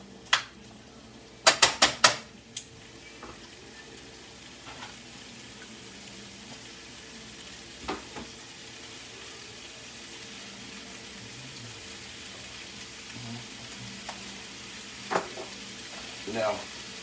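Fish with garlic and ginger fries in a pan, a soft steady sizzle running throughout, broken by a quick burst of sharp metallic tong clacks early on and a few scattered clinks later, with no talking.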